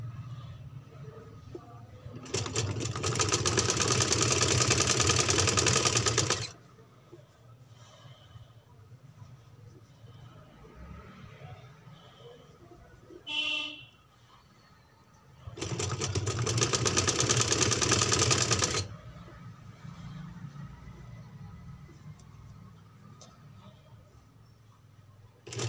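A sewing machine stitches a baby frock in two steady bursts of several seconds each, a close, even mechanical whir that stops between runs, with quiet room tone and a brief click in the pause.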